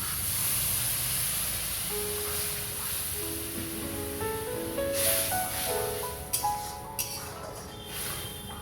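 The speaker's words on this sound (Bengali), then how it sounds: "আর লবণ দিয়ে জল দিয়ে দিলাম" Water with salt and sugar poured into a pan of cooking fish sets off a loud, steady hiss and sizzle, with a few light taps and clinks toward the end.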